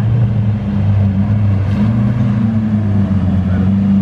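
A turbocharged Lamborghini Huracán Performante engine hums steadily at close range, its low drone holding even with a slight rise in pitch, with no clear talking.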